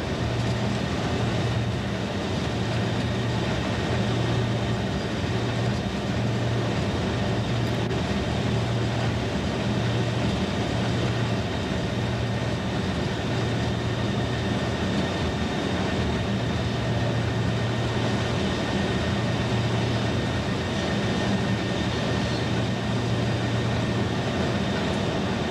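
Continuous heavy drone and rumble inside the cab of a Class 47 diesel locomotive running from Bredbury stone sidings toward Stockport, with a pulsing low engine tone and steady rail noise, loud and unbroken.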